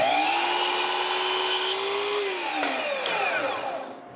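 A power tool cuts wooden strips to length for a scrap-wood storage cabinet, a steady loud whine whose pitch slides downward near the end as the cut finishes, with no talk.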